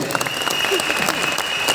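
A studio audience at a Telugu comedy stage show claps loudly and steadily, a dense, even wash of applause throughout the short moment.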